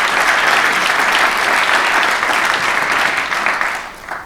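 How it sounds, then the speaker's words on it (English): An audience applauds steadily at a cannabis-industry talk event, dense clapping holding loud and even for about four seconds before tapering slightly at the end, with no voices over it. "let's give them a little round of applause for that."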